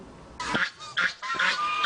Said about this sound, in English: 72-year-old Xiao Jiaming disrupts these geese to capture their image